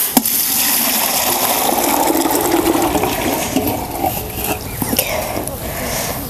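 Hot water gushes out of a pot heated on a stove, a loud continuous pour with splashing that thins slightly toward the end.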